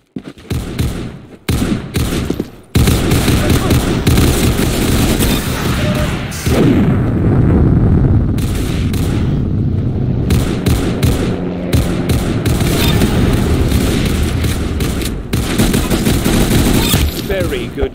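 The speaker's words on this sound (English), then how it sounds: "Very good shooting." Loud, dense gunfire from the shooter game Arsenal starts in choppy bursts, then becomes a near-continuous barrage of overlapping shots and booms that lasts to the end.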